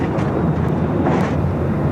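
ANA Boeing 787-9 Dreamliner jet airliner in Future Promises livery at Los Angeles LAX, bound for Tokyo Narita, giving a steady, broad engine roar with wind buffeting the microphone, continuous and fairly loud with no talking.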